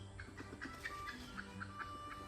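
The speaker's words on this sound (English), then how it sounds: "I hear a hen clucking right there." Soft, repeated clucks from an Osceola wild turkey hen at a distance in central Florida, spaced irregularly over a steady outdoor background hum.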